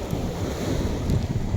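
Sea waves washing onto the shore with wind buffeting the microphone, a rough continuous rush with low surging swells, moderately loud and with no voices.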